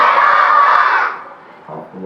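A crowd at a Eid Milad un-Nabi gathering shouts an enthusiastic slogan response in unison, loud and close, fading after a second before a few scattered voices and talk return.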